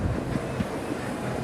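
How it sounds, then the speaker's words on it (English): An orange monorail glides past at Magic Kingdom on a frigid morning, its steady low rumble and faint rail clatter filling the scene with wind buffeting the microphone throughout. "Oh, there's an orange monorail."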